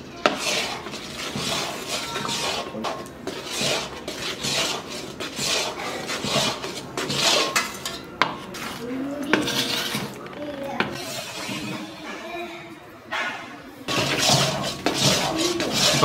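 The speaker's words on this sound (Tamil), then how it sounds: "நான் வந்து ஒரு 15-20 மினிட்ஸாக கிண்டிகிட்டு இருக்கேன்" A spatula rasps and scrapes continuously through thick Mysore pak batter cooking in ghee in a pan, rhythmic strokes close and steady with brief pauses.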